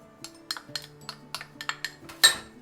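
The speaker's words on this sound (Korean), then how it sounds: "한번 마요네즈에 버무려 봅시다." Spoon clinking against a bowl while chopped lobster is mixed with mayonnaise, a quick irregular series of bright metallic taps with a faint ringing tone, ending in one louder clink.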